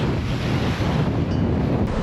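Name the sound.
wind and waves in heavy weather while sailing downwind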